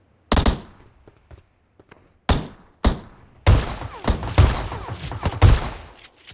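Gunfire rings out on the snowy Vikendi map in the battle royale game PUBG Mobile: several sharp isolated shots with quiet gaps, then a rapid burst of repeated shots echoing close and loud.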